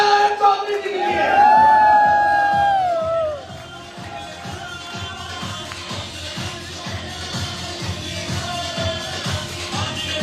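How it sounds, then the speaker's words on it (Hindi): A crowd at a business-plan meeting erupts in loud cheering and whoops at first, then settles into sustained rhythmic clapping that carries on steadily to the end. "एक बार जोर तालियां"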